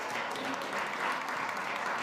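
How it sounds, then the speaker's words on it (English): Conference audience applauding at a food summit panel at SXSW, a soft continuous patter of many hands, somewhat distant and even throughout the short burst. "Another round of applause for the great Stephen Ritz."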